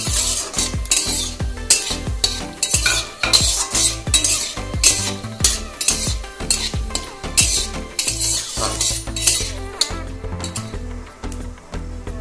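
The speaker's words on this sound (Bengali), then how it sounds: "মশলাটা তেলে অল্প নাড়াচাড়া করব।" Bay leaf, cardamom, cinnamon and panch phoron are stirred in hot oil in a pan for mango chutney: a spoon scrapes and clinks rhythmically against the pan over a continuous loud sizzle throughout.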